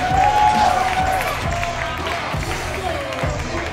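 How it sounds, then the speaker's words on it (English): A crowd at a 2v2 all-style dance battle makes noise with scattered cheers and claps, while a voice speaks over it and the music underneath keeps a steady thumping beat throughout. "crowd, make some noise, make some noise!"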